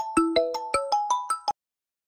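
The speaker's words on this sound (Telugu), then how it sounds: "చెల్లెమ్మ ఫోన్ చేస్తుంది." A phone ringtone for an incoming call plays a rhythmic electronic melody of eight clear, evenly spaced tones over about a second and a half, loud and close, with no talking, then stops abruptly.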